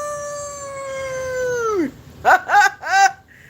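A man imitates a dog with a long, falling wolf-like howl, followed by three short yelping barks, close and clear against a quiet room.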